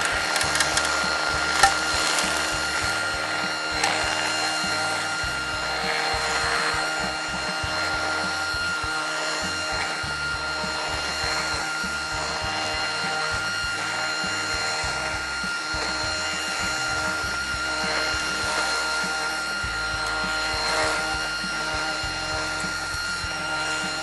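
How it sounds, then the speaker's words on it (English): DeWalt 60V Max FlexVolt 17-inch brushless electric string trimmer cutting grass in a backyard, a continuous high motor whine with a buzzing, slightly fluttering line, steady and close throughout. "is the trimmer in action."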